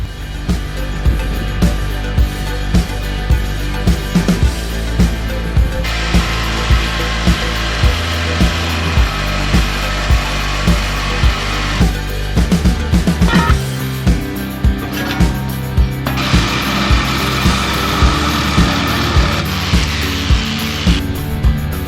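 A power tool cutting through a thick aluminum trailer fender, loud harsh grinding and rattling that runs in long bursts with brief pauses and changes in pitch, close to the microphone.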